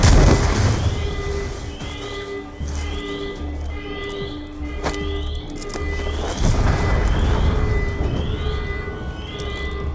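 Multiple explosions rock a facility in Call of Duty Black Ops 2, with heavy booms and bursts rolling over a dense, loud, continuous rumble of in-game ambience.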